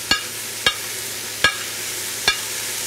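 Chanterelle, hedgehog and trumpet mushrooms sizzle in a pan with a steady bright hiss, broken by four sharp clacks of stirring spaced about a second apart.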